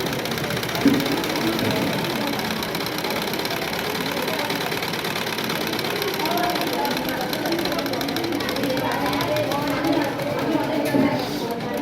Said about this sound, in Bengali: রাউন্ড পলিটা সেলাই করলাম, এইটাকে চাপ সেলাই দিচ্ছি।